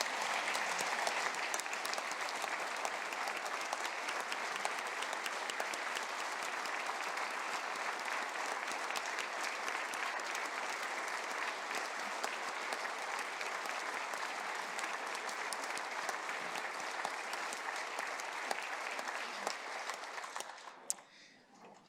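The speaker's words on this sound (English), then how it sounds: "would you all please join me in giving Alyssa a round of applause" A large audience at a governor's State of the State address in 2022 applauds for a honoured guest, a dense, steady roar of clapping sustained for about twenty seconds before quickly tapering off.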